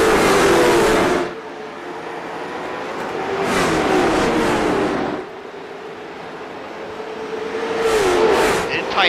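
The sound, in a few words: late model race cars starting a race at Bristol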